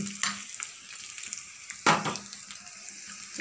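A hot tempering of spices sizzling in a pan for a chana dal cabbage curry, intermittent crackles and stirring with one sharp loud burst of sizzle midway, no talking.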